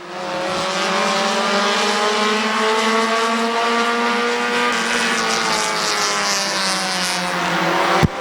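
Several dirt-track race cars roar together through a heat race at Midvale Speedway, a dense, steady engine drone with slowly shifting pitch and a sharp bang near the end.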